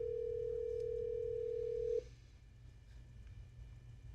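A steady telephone dial tone hums for about two seconds, then cuts off, leaving quiet line noise.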